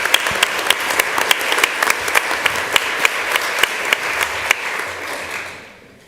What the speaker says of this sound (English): So please give them another round of applause for facing their students.